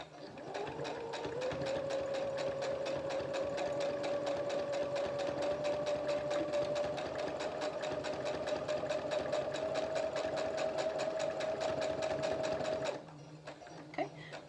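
Sewing machine stitching a candy corn pom pom pillow, a loud continuous whirring hum with fast ticking for about thirteen seconds, then stopping abruptly and leaving a quieter background.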